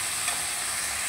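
Potol (pointed gourd) frying in a pan with turmeric and salt and being stirred, a steady close hissing sizzle throughout.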